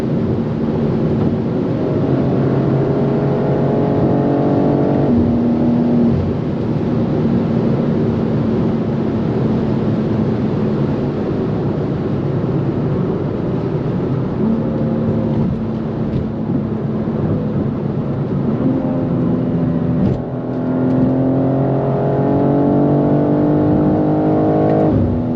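A BMW M2 G87 accelerates hard on the Autobahn, its engine note climbing steadily through the gears with brief dips at the shifts, loud and continuous with strong wind and road roar throughout.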